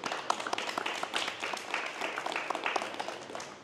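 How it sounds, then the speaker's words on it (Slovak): Audience applause at a live youth hackathon event in Slovakia, a steady wash of many hands clapping together, fairly close and sustained throughout with no talk over it. "Toto je tiež na potlesk, ľudia"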